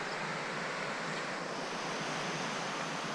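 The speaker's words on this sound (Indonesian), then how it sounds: "Bawah tu air terjun." A waterfall pours somewhere below the trail, a steady, full-band rush of falling water that stays constant and fairly loud throughout.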